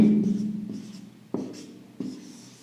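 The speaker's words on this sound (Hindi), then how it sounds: "एंथैल्पी फंक्शन को मैं यहां पे लिख रहा हूं, तपस्वी," Chalk or marker strokes on a board during a thermodynamics lecture, several distinct scratchy bursts with brief pauses between them, close and fairly loud, with no talking over them.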